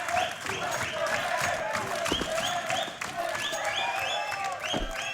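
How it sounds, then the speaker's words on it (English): At a BLAST Spring Series 2020 CS:GO match against Team Liquid, a large arena crowd of MIBR supporters cheers and applauds in sustained rolling waves, with repeated chant-like surges rising above the roar. "MIBR fans are cheering for a round"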